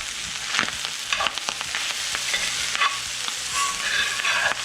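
Cajun trinity vegetables and corn cook in a hot pan, a continuous sizzle broken by scraping and stirring clicks from a spoon, close and moderately loud with no voices.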